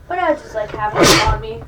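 A single short sneeze bursts out in the middle of a person's speech, loud and close, and another voice briefly follows.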